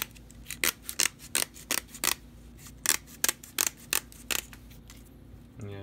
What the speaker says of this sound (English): I typically will just take like scissors and we'll cut along the entire length of this